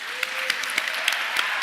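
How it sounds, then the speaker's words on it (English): Brief, moderately quiet audience applause in the Birmingham Town Hall during an awards livestream, with scattered sharp claps over a steady wash of hand noise. "Let's give them a massive round of applause."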